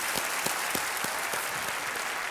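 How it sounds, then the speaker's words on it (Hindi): Studio audience applause on a Hindi quiz show set, a dense steady wash of many hands clapping with a few sharper claps standing out, continuous and fairly loud throughout. "तालियों के साथ इनका अभिनंदन।"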